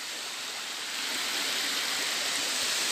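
Mountain stream in the hills near Santook village, water rushing steadily at a village drinking-water source, a constant broadband hiss that swells slightly louder partway through, with no voices.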